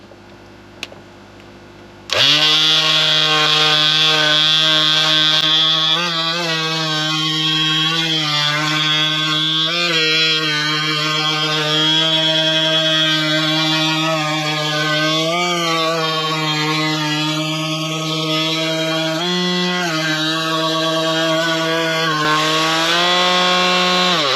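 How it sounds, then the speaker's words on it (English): Electric sander running steadily on wood patched with super glue and sawdust, a loud continuous motorized whine with shifting harmonics, starting after a short quiet lead-in and holding nearly constant throughout. "Get a sander, which can be electric or hand sander, and sand it down."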